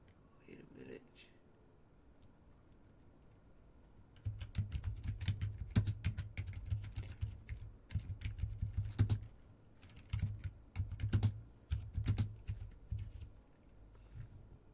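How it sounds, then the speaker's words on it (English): Computer keyboard typing up close, quick clattering bursts of keystrokes in uneven runs after a short quiet start, with brief pauses between flurries. "Let me just type in."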